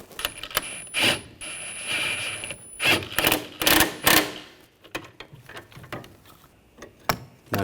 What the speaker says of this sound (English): Now torque these bolts to 62 foot-pounds.